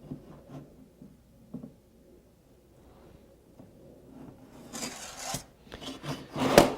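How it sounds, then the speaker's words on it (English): A pencil scrapes lines across a wooden part in short, faint rubbing strokes, then several louder, quicker scratches close up toward the end. "Now we'll just draw a couple lines across here."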